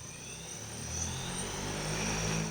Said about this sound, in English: You take off, and that just lifting off the ground